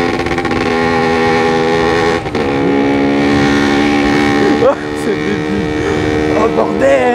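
A motorcycle running without its exhaust silencer, its loud, raw engine drone holding steady at low throttle with a couple of brief surges, recorded close up while a voice is mixed in.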